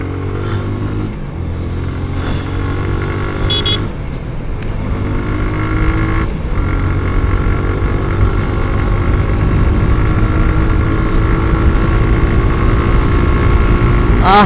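Suzuki Gixxer Monotone motorcycle, new, pushed hard on an open road, its engine droning loud and steady throughout with rising harmonic tones and constant wind and road rush, a voice speaking briefly near the start.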